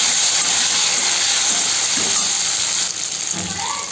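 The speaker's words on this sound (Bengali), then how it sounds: "সিদ্ধ করা কচুগুলোকে সুন্দর করে আমি তেলের মধ্যে আমি ভেজে নেব।" Boiled taro pieces frying in oil, a steady loud broadband hiss and sizzle that holds evenly for the whole stretch, close up with no talking.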